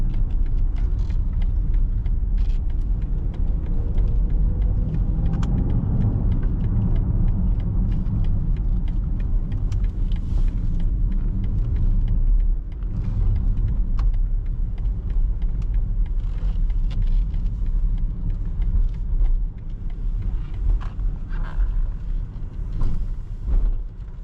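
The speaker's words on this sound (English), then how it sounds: "Now that was a really fun drive in this BMW XM label." A 2024 BMW XM Label with 738 horsepower drives on the road, giving a steady, close engine rumble and road noise from inside the cabin that swells slightly and then eases.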